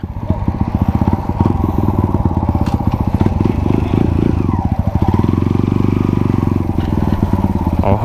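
Kawasaki KLX dirt bike engine idling and chugging loudly and close, with a steady rough beat and clattery mechanical knocks while the rider struggles to get it into gear.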